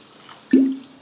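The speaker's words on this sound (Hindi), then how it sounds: "और मिलाते हैं पानी" Water splashes into a cooking pot of mixed vegetables with onion, turmeric, mace, cardamom and bay leaves. It is a single close plop with a short gurgling tail over quiet kitchen background.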